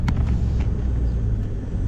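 A truck engine idles loud and close while backing in to park, a steady low rumble that holds throughout with no voices.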